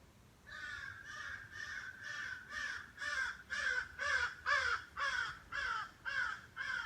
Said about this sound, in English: Crows are cheering us on.